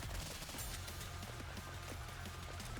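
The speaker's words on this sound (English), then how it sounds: "He has a little machine gun just below him." In the mobile game NIKKE, a boss's small machine gun fires in rapid, dense bursts of gunfire. Other game effects rattle steadily around it.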